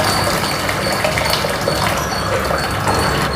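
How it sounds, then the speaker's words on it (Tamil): A pot of water with dissolved jaggery at a rolling boil gives a loud, steady bubbling hiss that carries on without a break, heard up close. "தண்ணி நல்லா கொதிச்சு வருது பாருங்கள்."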